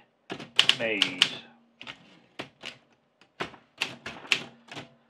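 A 1950s Olympia SM4 manual typewriter, its keys striking in short clusters of sharp clacks with pauses between and a ringing bell partway through, close and clear.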